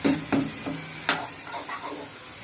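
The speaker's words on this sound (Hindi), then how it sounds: "मसाला कढ़ाई में भुज रहा है" Masala fries in a kadhai with a soft, steady sizzle, broken by a few sharp clinks of a spoon stirring against the metal pan.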